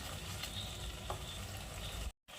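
Egg roast masala is stirred in a pan over heat, giving a continuous low sizzle with soft scraping strokes and a brief dropout near the end; no one speaks.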